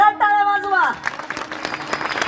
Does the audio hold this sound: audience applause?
yes